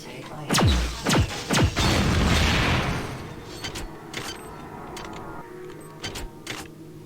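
Explosion in the first-person sci-fi game System Shock 2: a quick cluster of loud, sharp blasts in the first two seconds, followed by a rumbling debris tail that fades into lighter clanks and thuds.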